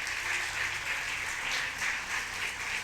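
Church congregation at a Christian fellowship service applauds steadily and fairly loudly for about three seconds, a dense sustained wash of many hands clapping with no voices standing out.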